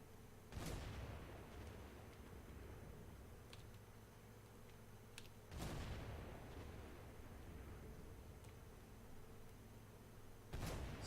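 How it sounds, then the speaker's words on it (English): Distant artillery fire in a War Thunder tank battle: three sharp, heavy booms spaced about five seconds apart, each decaying into a rolling rumble over a steady engine-like background drone. "Certainly sounds like something's close. Just artillery."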